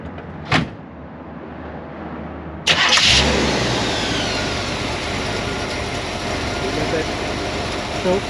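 A modified 350 V8 in a 1975 Chevrolet Corvette cranks and fires after a brief click, then settles into a loud, steady idle close by, with faint voices under it.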